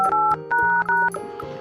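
A telephone keypad being dialed, a quick series of clear, loud DTMF tone beeps in an irregular rhythm, each lasting a fraction of a second, with no talk.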